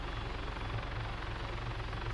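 A helicopter in the video game ARMA III flies with its nose lowered as it slows to a hover, giving a loud, steady rotor chop and engine drone that fills the scene without any talk.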